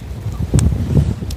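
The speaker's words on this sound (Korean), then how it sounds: "바람 소리 너무 많이 나나?" Strong wind buffets the microphone steadily with a low roaring rumble, gusting throughout the short stretch outdoors on a webfoot octopus fishing boat off Gunsan.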